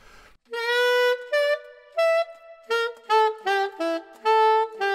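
An alto saxophone plays a phrase slowly, a run of sustained, clear notes with short gaps between them, close and alone.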